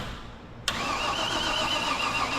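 A 1967 Camaro engine that sat for 34 years cranks over after near-silence, with a sudden click and then a steady, moderately loud whirring hum of the starter that continues to the end.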